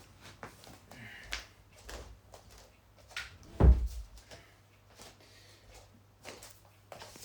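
A living room door is shut indoors, with one solid thump standing out near the middle among scattered knocks and light handling noises, with no talking.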